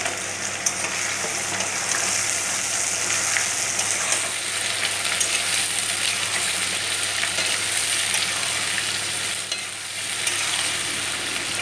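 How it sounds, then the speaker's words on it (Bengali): Onions crackle and fry vigorously in oil over sugar already caramelized red for a goat mutton curry, a dense, steady, close sizzle running throughout with occasional stirring movement. "চিনিটা লাল হওয়ার পর এবারে পেঁয়াজগুলো ছেড়ে দেওয়া হলো।"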